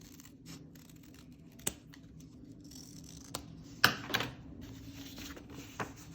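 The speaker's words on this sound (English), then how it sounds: "So I'm going to cut it just a little deeper right there." Scissors cut a little deeper into a paper heart during a craft, with a few sharp snips standing out over a quiet, faintly rustling background.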